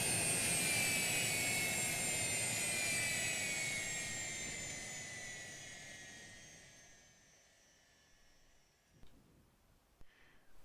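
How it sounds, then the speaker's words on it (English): Twin jet engines of a Cessna Citation C-560XL in a flight simulator spool down, a loud broadband roar with a falling whine that fades over about nine seconds into near silence and a few faint clicks. "Let's shut the engines down for now and continue with the outside tour."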